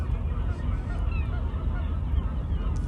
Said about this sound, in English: all the seagulls flapping around